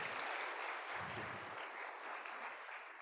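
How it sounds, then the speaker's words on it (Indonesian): A seminar audience at a motivational talk on the quarter-life crisis claps for a speaker, a soft, steady patter of many hands heard from a distance for a few seconds. "tepuk tangan dong buat kakak kita yang bicara hari ini"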